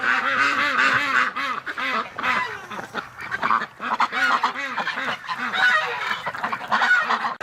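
A flock of female ducks quacks and honks loudly at close range on a cold, wet winter day, a busy overlapping chorus of nasal calls in uneven bursts with short lulls.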